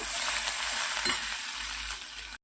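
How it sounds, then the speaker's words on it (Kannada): Garlic frying in hot oil, an even, close hiss of sizzling with a faint stir partway through, ending abruptly. "ಒಂದು ಬೆಳ್ಳುಳ್ಳಿ ಹಾಕೊಳ್ಳೋಣ. ಸ್ವಲ್ಪ ಫ್ರೈ ಮಾಡ್ಕೊಳ್ಳೋಣ."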